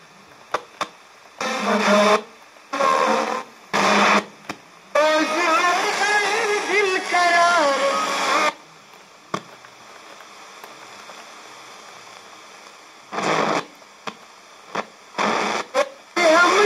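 A Geepas GR-8635 portable radio tuned to the FM band plays in short bursts of broadcast sound separated by near-silent gaps, with one longer stretch of programme audio in the middle, at moderate, fairly close level.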